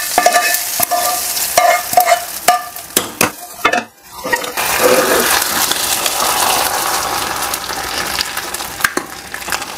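Crushed garlic and curry leaf tempering poured into cooking spinach dal, starting with loud clanks and stirring scrapes, then a sudden burst of sustained sizzling that holds close and steady.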